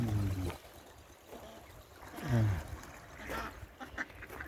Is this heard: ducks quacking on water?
yes